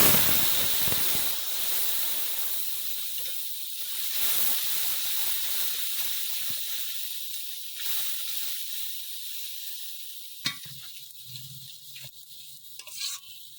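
Ground cumin, dried chilli and tomato paste hit hot oil in a pan for a jackfruit seed curry, bursting into a loud, steady hiss that gradually softens and thins out, with a few stirring scrapes near the end.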